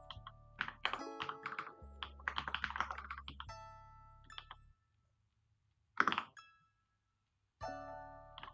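Rust code typed by hand on a computer keyboard, bursts of rapid close key clicks and taps separated by short pauses, with a final flurry after a brief silence.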